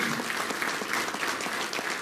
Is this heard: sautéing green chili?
no